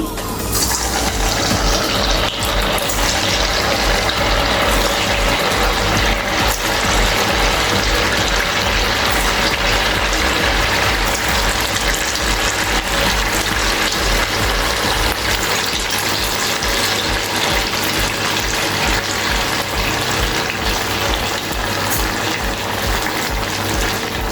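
Nuggets fry in hot oil that bubbles and crackles vigorously in a loud, dense, continuous hiss that barely changes for the whole stretch.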